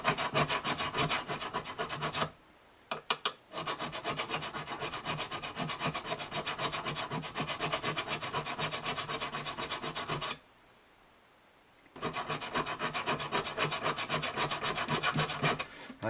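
Steady rhythmic rasping of a file over the frets of an old Gibson Southern Jumbo acoustic guitar, with back-and-forth strokes close and continuous, pausing twice, with no voices.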